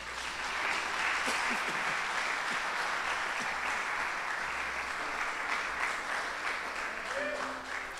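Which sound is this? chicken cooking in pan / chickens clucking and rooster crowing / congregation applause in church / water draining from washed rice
congregation applause in church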